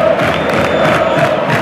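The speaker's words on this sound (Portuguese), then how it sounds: "E ó a torcida." Football fans in Real Madrid's stadium roar and cheer in a brief, loud swell of crowd noise, a continuous distant mass of voices without distinct words.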